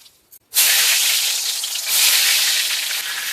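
Salted, turmeric-coated eggplant drops into hot oil with a sudden loud sizzle that keeps hissing steadily, swelling briefly partway through, with nobody speaking.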